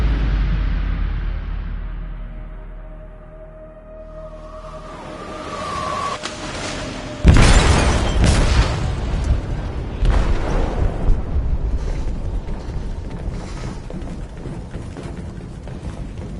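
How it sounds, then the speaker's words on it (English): In Detroit: Become Human, an explosive detonates in a ship's hold. A low rumble and a rising whine build first, then a heavy, loud boom strikes, followed by a long roaring, crackling decay. "They detonated an explosive in the hold."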